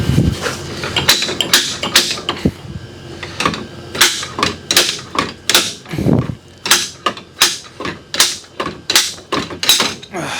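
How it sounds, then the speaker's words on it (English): Repeated sharp metallic clunks of a slide hammer pulling a part from a Mercedes 190E, striking in a steady rhythm about once a second, close by. "screw the slide hammer onto it"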